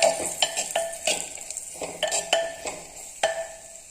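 Ripe nendran banana is sautéed in ghee in a clay pot for kalan, a spoon scraping and knocking against the pot in irregular strokes over a faint, soft sizzle.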